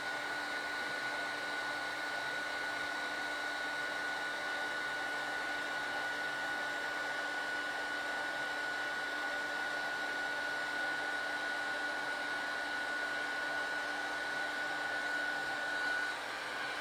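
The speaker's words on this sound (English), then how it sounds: "So that is my heat gun finished with now." A heat gun blows continuously for heat embossing a card, a steady close whooshing roar with a fixed whine held for the full length, no talking.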